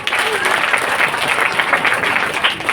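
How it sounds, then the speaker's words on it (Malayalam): Audience applause at a school or community felicitation ceremony, dense sustained clapping from a crowd filling the whole stretch, loud and close. "കൈയടിക്കൊന്നൂടെ."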